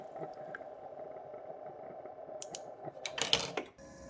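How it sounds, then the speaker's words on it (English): A Keurig B70 Platinum coffee maker's internal pump hums faintly and steadily while refilling its tank, followed by a short burst of gurgling and clicking near the end. "You can hear the pump running."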